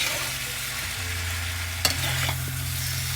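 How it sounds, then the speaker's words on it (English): Spinach chicken curry seasoned with red chili powder being stirred in a pan, a steady frying hiss with a sharp utensil scrape near the middle, close and continuous, no voices. "And let's give it a good mix again."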